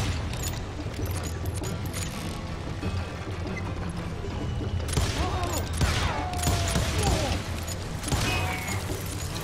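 Gunfire and clattering action sounds in the Western shooter game Call of Juarez Gunslinger, dense and irregular bursts with heavier impacts in the second half, close and fairly loud.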